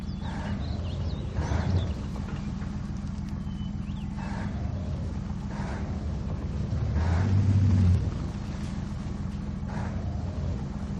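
Oshkosh M1070 8x8 heavy equipment transporter manoeuvring in the Spintires game, a steady low diesel rumble that swells briefly near the end, with faint clanks over it.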